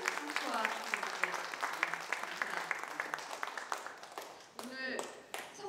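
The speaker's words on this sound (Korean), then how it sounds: "여러분 다시 한번 큰 박수로 좋은 노래를 부탁드립니다" Audience applause at a talk concert for a singer after a song, a moderate patter of clapping with voices talking over it throughout.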